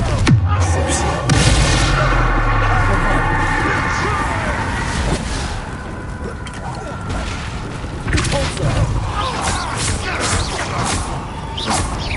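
Confringo blasting spell going off in Hogwarts Legacy, a booming explosive crash with whooshing bursts over a loud, busy game soundscape, with voices talking throughout.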